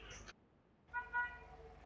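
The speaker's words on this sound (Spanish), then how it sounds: "¿Qué, la bocina de Renato Orina ese?" A car horn honks in the street, a faint sustained tone lasting about a second, preceded by a brief muffled sound.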